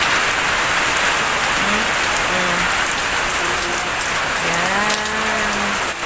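Rain falls outdoors, a loud, dense, steady hiss of drops pattering and dripping on surfaces, with a few faint low animal calls rising through it in the distance.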